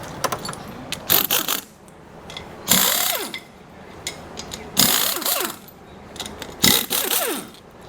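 A socket ratchet loosens bolts on the extension housing of a 2013 4L60E transmission, its fast clicking bursts repeating close up between pauses and softer metal handling noises.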